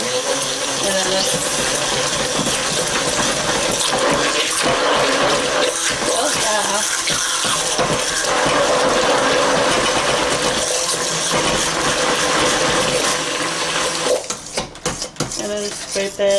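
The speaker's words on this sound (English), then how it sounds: "they call it a stick mixer for a reason" A stick mixer blends keto bread batter in a bowl, a steady loud whirring and churning that runs almost unbroken, then turns choppy with clinks near the end.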